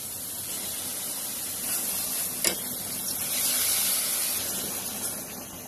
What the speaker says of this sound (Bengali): সুন্দর নেড়ে চেড়ে আমরা এটাকে এখন কষিয়ে নেব।